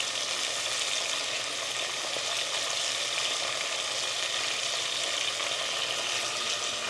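Chopped tomatoes with salt cook in a pan for a home breakfast, giving a steady, even sizzle and hiss that carries on without break, moderately close and alone with no voices.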